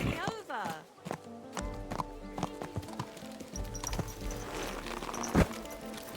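Horse hooves clip-clopping on a path in the medieval video game Kingdom Come Deliverance 2, a steady walking rhythm with a whinny early on, heard under in-game talk and background music.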